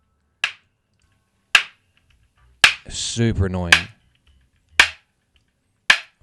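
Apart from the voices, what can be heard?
wood claps from an isolated multitrack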